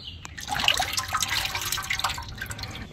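Transmission fluid pours and drips from a Lexus GX460 oil pan into a bucket after the filter is removed, a steady close liquid splashing and trickling with scattered drips throughout.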